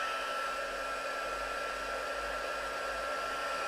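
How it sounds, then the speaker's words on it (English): A crafting heat gun warming up for card making: a continuous even blowing whine with a steady fan hum, close and loud with no change in level throughout, and no talk. "So let me just heat up my heat gun."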